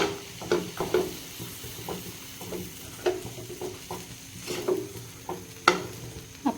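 A spoon works fried cashews and raisins through a pan of halwa, with soft scraping strokes and light metallic taps recurring irregularly over a low, quiet sizzle, no voices.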